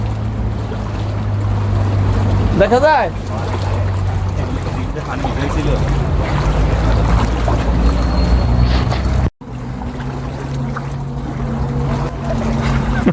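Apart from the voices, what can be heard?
people wading through floodwater on a street in Dubai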